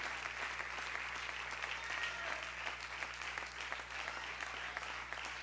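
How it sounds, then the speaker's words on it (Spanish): A church congregation claps for the King of Glory in a steady, sustained wave of applause, fairly distant and soft, continuing evenly throughout with no speech. "Dale un aplauso grande al Rey de Gloria."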